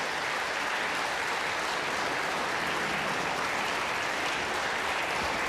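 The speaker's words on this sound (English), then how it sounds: "That extended applause is for John Higgins" Sustained applause from a snooker audience at the English Open, steady dense clapping that holds at an even level throughout, with no voices over it.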